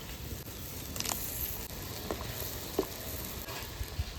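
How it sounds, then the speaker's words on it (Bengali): Mango and shol fish curry frying in a pan, a soft steady sizzle with a few faint clinks of stirring, fairly quiet and without speech. "এই যে আম শোল রান্না করব আমটা দিয়ে দিলাম"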